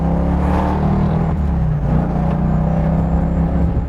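A 1970 Plymouth Hemi Cuda with a shaker cam idles nearby, a deep, loud, lumpy rumble holding steady throughout with no talk over it.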